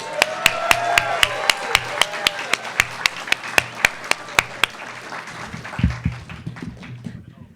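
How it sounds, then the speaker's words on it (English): At a law school moot court competition, a room applauds the finalists: steady crowd clapping with one very close, loud clapper beating a regular rhythm, fading out as murmuring and a few stray claps remain. "another round of applause for our finalists"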